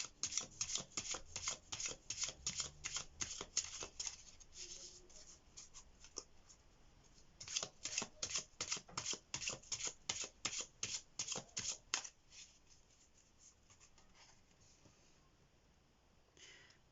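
Hidden Truth Oracle cards are shuffled for a pick-a-card tarot reading: rapid, crisp riffling bursts close by that run in two long stretches, with a brief pause between them, then go quiet near the end.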